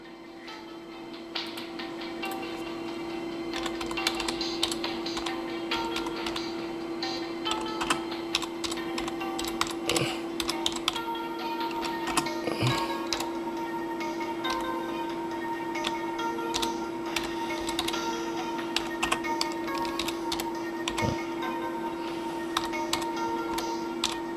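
Keyboard typing clicks from a Nintendo DS quiz game, a steady run of light, rapid key ticks over a constant electronic hum, with no talking.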